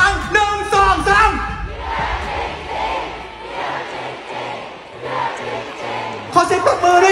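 Crowd of fans at a fanmeet shouting a rhythmic cheer in unison, a chanted call repeated in loud group bursts with a host's voice at the start and end.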